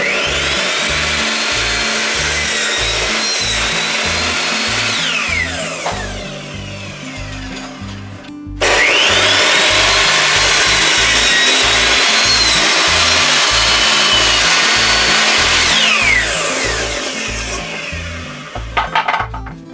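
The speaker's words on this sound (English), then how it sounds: "we're going to cut them to length so they kind of fit down in there on top of the plywood" A power saw cuts thin plywood strips to length in two long, loud, sustained runs close by, separated by a short dip, with some knocking and clatter at the end.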